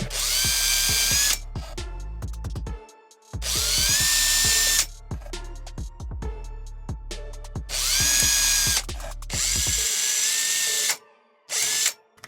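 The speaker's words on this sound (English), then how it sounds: "More air holes, the better. Yeah, more drilling." A power drill bores air holes into a 3D-printed cosplay box in several loud whining bursts of a few seconds each, separated by short pauses and clicks.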